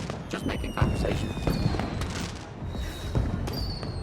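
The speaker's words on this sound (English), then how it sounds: "An over-the-top display of Union City technology. The fireworks were holograms." Holographic fireworks at a Union City party in the video game Beyond a Steel Sky: repeated crackling bursts and soft booms with whistling streaks, steady throughout, with faint talk underneath.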